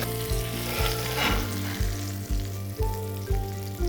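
Masala fish with onions fries on a hot tawa in a constant close sizzle, cut by rhythmic scraping stirs about every half second.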